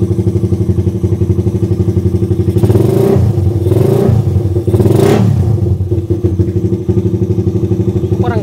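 A Raider 150 motorcycle fitted with a 32mm carburetor and a 30-hole atomizer idles with a loud, close, even putter. The engine briefly blips higher twice in the middle before settling back to a steady idle.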